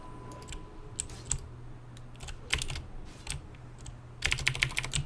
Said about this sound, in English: There's typing machine noise. Yeah, it's just my keyboard, man.